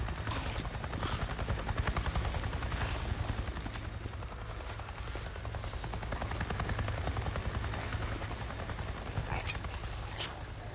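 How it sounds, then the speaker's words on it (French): A helicopter flies overhead in the video game Days Gone, a steady, continuous rotor drone that holds for the whole stretch at moderate distance, with faint sharper cracks scattered through it. "Je viens de voir un putain d'hélico"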